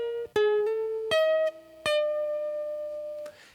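Solo ukulele line from a song, clear plucked notes with sharp attacks ringing into sustained tones, a handful of notes played alone and close.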